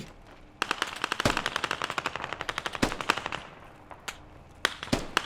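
Automatic gunfire rattles in rapid bursts during a match of the military shooter SQUAD, close and loud, with a few sharper single shots cracking through.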